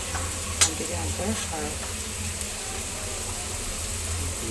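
Dry small prawns (suka jawla) fry with red masala in a pan, giving a steady close sizzle with stirring scrapes and one brief sharp clink near the start.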